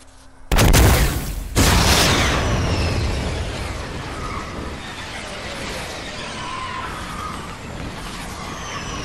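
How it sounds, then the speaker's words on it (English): A guided rocket detonating in a video game, a loud booming blast followed by a second hit and a long rumbling roar that slowly fades under game ambience. "I'm about to use my guided rocket."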